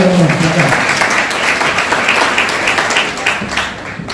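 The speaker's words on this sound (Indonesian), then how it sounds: "tepuk tangan buat teman kita" Audience applause for a fellow participant at a university business workshop, a dense steady wash of many hands clapping throughout, fairly loud, with a voice briefly audible at the very start.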